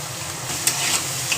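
Potato and ridge gourd, seasoned with salt and turmeric, fry in a pan on a gas stove while being stirred: a steady close sizzle with a few sharp spoon-against-pan clinks.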